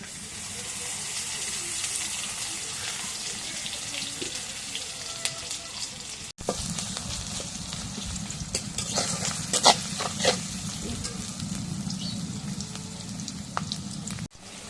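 Onions frying in hot oil for a goat meat curry, being stirred in the pan, with a steady soft sizzle and scattered scraping stir clicks, moderately faint and close, with a sharp knock midway.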